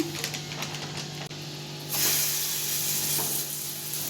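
Bobbatlu, a wheat-flour flatbread, frying on a hot pan, giving a steady sizzle and hiss that swells louder partway through as another piece goes onto the pan.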